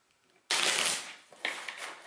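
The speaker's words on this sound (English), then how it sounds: "we're going to have to shuffle these" Encounter cards from the D&D Castle Ravenloft board game being shuffled by hand: two bursts of dense, crisp riffling, the first longer and louder, then a second shorter shuffle.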